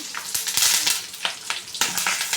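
Curry leaves sizzle and crackle in hot oil with green chillies in a pan while cooking fenugreek-leaf dal, with a steady frying hiss broken by repeated scraping stir strokes, close and fairly loud, with no talking.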